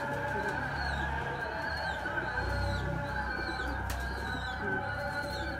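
Pigeons in a coop give soft, repeated coos over a steady low hum and background murmur, moderately faint and continuous with no voices in the foreground.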